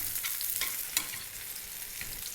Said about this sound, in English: So we can turn on the heat on the fennel,